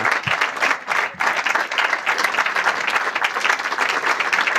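A live podcast audience claps enthusiastically, dense continuous applause at steady volume with a brief dip near the start, close and full throughout.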